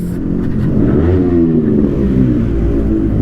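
A motor vehicle engine revs and roars loudly and close by, its pitch rising and falling over about three seconds with no talking.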